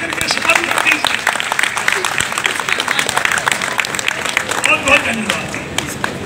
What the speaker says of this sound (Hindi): जोरदार तालियां बजा